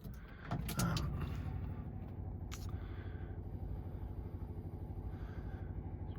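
A cold start of an LS V8 swapped into a second-generation Pontiac Firebird with a carburetor setup: brief clatter and a crank, then a steady, rumbling idle that drones on evenly.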